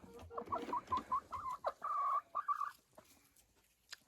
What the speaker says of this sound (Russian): Это курочка помесь с амирауканом.